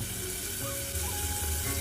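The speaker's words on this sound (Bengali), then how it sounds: "তার জন্য আলু কাটা আগে ভাইজে নেই, লবণ দিয়ে" Cut potatoes frying with salt in oil, a steady close hiss of sizzling with a low bubbling underneath, continuous throughout.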